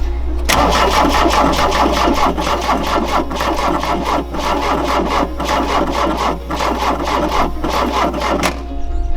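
Engine of a Rabbit pickup truck cranking on a weak battery, a loud, continuous sluggish starter grind with a rhythmic pulsing that runs for about eight seconds without catching, then cuts off.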